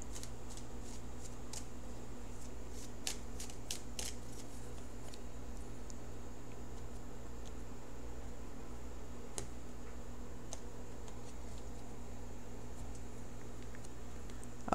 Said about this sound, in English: So let me shuffle for the outcome card.